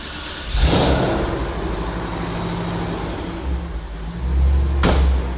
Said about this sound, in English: We'll go ahead and fire it up here.